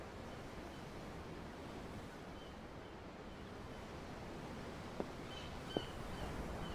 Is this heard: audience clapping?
no